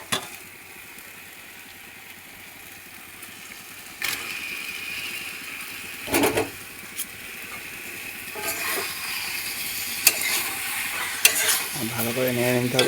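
Chicken pieces sizzle in a hot pan at home, a steady frying hiss with scraping stirs and occasional clanks of a spoon against the pan, growing busier toward the end.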